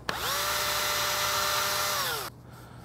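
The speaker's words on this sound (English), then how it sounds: "I have a Forstner bit. I'm gonna drill almost all the way through." A power drill with a Forstner bit bores into wood in one steady, loud whine lasting about two seconds, pitch sagging slightly as it cuts, then stopping abruptly into quiet workshop background.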